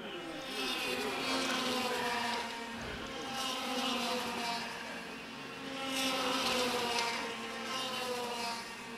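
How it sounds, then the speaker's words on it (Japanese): KF2 racing karts in the All-Japan Kart Championship accelerate out of the final corner, a continuous buzzing engine whine that swells and fades twice as the karts pass, no voices. "宮沢、 さあ最終コーナーから立ち上がってくる。"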